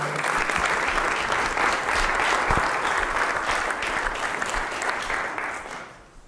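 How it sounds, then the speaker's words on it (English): A large audience at a talk on programming the mind for success claps steadily in a dense, sustained wave that tapers off toward the end. "Let's give a nice big round of applause to Alice Mar Rocher."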